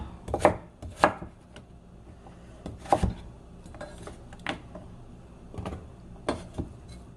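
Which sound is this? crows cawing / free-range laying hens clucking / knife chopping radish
knife chopping radish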